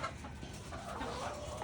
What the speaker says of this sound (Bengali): আমি এটাকে বলি আধুনিক মুরগির খামার।